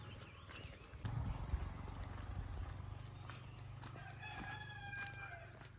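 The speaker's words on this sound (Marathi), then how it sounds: "कोंबड्या आरवतात बघ कसं" Roosters crow in the distance in Burambawade village, Sindhudurg, a few drawn-out calls over quiet outdoor ambience and a low steady hum.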